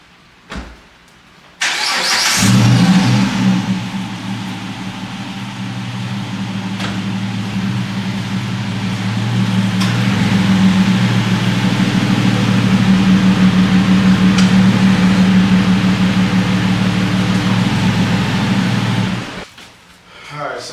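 A car engine starts and runs steadily at a low, droning idle as it is driven slowly into a garage before headlight work, the loud hum lasting about sixteen seconds before cutting off, with no talk over it.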